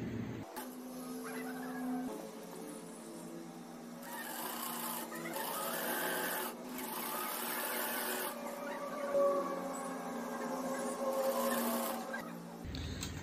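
A sewing machine stitches a lehenga dress from chest to border in several runs of fast, even mechanical whirring, with short pauses between bursts.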